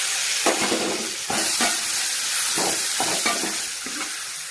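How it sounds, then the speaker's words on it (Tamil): Tomatoes sauté with onions and chillies in a pan, a bright continuous sizzle broken by several distinct scraping strokes of a spoon stirring at irregular intervals, close and fairly loud with no talking. "இப்போ நம்ம தக்காளியை சேர்த்து வதக்கிடலாம்."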